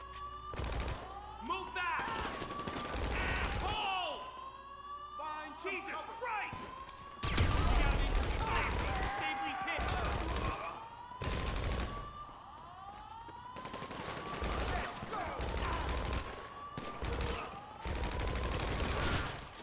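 Bursts of gunfire from enemies in GTA V Online crackle repeatedly amid game sound effects and a siren-like wail, with someone talking over the action throughout.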